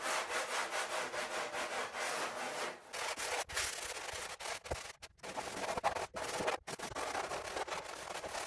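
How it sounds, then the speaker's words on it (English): A Japanese Shinto rasp scrapes rapidly across surfboard material made with sheep's wool, loud close rough strokes in quick succession, broken by a few brief pauses and sharp gaps between passes. "a Japanese Shinto rasp to do some heavy material removal"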